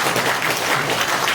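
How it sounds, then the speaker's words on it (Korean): Audience applause at a regional council member's 2026 public report meeting in Jeongseon, South Korea: a steady, dense wash of many hands clapping across a crowded room, continuous and fairly loud throughout. "여러분 이거 박수 한번 쳐야 되지 않습니까?"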